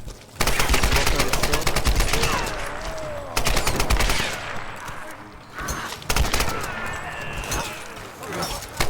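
Rapid bursts of gunfire in the Tomb Raider video game, volleys of sharp cracks repeating through the stretch with brief pauses between them, while a voice talks over the action.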